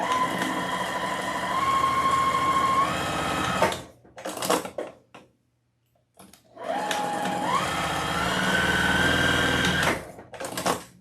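A domestic sewing machine stitches pumpkin lines onto a fabric mummy wreath attachment in two loud, close runs of rapid whirring, with each run changing speed before a short quiet break between them; no voices.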